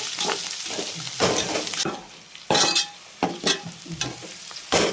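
Curry leaves crackling and frying in hot oil for a Kerala-style kappa biryani, with bright sizzling bursts that flare up repeatedly, loud and close, and no talking.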